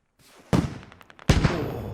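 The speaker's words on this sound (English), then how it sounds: "Oh, rocket fired" Rocket launcher fired in a military video game, two sharp loud blasts about a second apart, each followed by a rumbling decay, over faint background.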